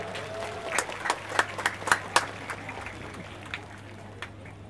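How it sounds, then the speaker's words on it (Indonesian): At a hafiz graduation ceremony at a Quran boarding school in Serang, a small audience claps for the mayor, a brief run of scattered, fairly faint claps that fades out quickly over a low steady room hum. "Tepuk tangan untuk beliau"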